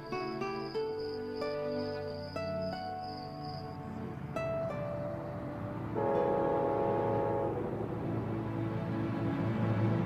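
Scenic passenger train rolling through the lower Hudson Valley, a steady mid-level rumble with tonal horn blasts in the first few seconds and a louder, fuller stretch of running noise toward the end.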